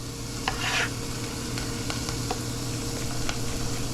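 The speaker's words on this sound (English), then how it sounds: "along with the onion that I have in there. Give this all a stir." Chopped onion sizzles steadily in a frying pan while a spoon stirs it, giving a close, continuous hiss broken by a few soft scraping strokes.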